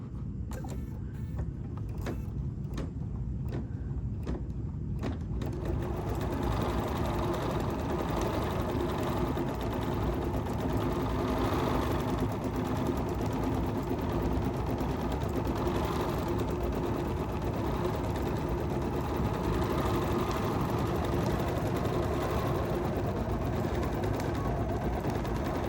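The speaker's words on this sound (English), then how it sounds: "And now we're going to stitch." A Bernina 990 embroidery sewing machine stitches a quilting design, a steady close motor hum with rapid needle chatter running continuously after a few sharp opening clicks, with no talk.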